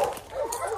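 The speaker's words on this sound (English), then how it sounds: "Here's the puppies. They're treeing." Hunting hounds bay and yelp at a bear treed in the woods. Several dogs bark and whine continuously, close and fairly loud, in overlapping excited bursts.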